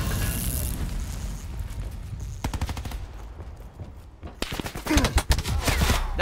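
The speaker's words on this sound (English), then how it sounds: "Dude, this gun does way more damage than the other assault rifle." Assault rifle fire in Call of Duty: Black Ops 4, with loud rapid automatic bursts and separate cracks spread across the stretch, broken by short pauses amid game ambience.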